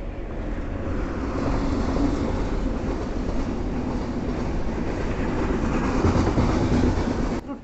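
Train passing at Kadalundi beside a mangrove forest, a loud steady rumble of wheels and carriages that holds throughout without pause.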